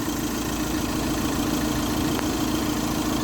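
A diesel engine idles at a steady, even drone with a constant low-frequency rumble and a faint vibration, with no speech over it.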